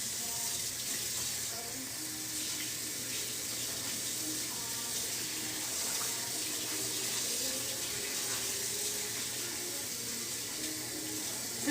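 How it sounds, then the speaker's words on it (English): A tie-dyed tank top is rinsed under a running tap, a steady hiss of water streaming into a sink with faint splashes and shifts as the fabric moves, continuous throughout with no talking. "We're going to rinse this out."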